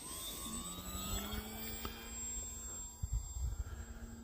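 An electric RC model airplane flies over a snowy field, its motor giving a steady, thin whine that shifts in pitch as it passes at a distance, faint against light wind noise, with no voices.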